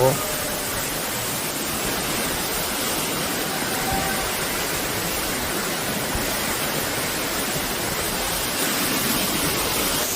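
Sulak waterfall on Kalbong mountain in Gapyeong pours in a dense, loud, unbroken roar of rushing water that fills the whole scene. The roar holds steady throughout.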